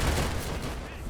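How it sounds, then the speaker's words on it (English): In the video game Easy Red II, aircraft strafing from above sets off a loud, dense burst of rapid explosions in close succession that fills the whole moment. "Those fast explosions in succession are strafing from above."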